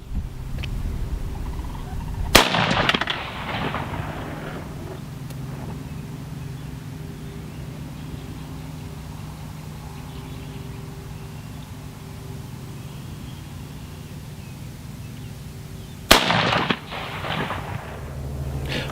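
A Tavor X95 rifle fires Federal Premium 77 grain match rounds outdoors, with two sharp, loud single shots spaced far apart, each echoing briefly, over a low, steady background hum.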